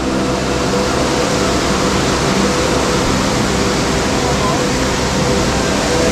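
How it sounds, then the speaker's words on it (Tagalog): Imugan Falls in Nueva Vizcaya, a 35-foot waterfall, rushes with a loud, dense, unbroken roar of falling water heard up close, steady from start to finish. "Grabe ang taas! Ang lakas ng agos niya."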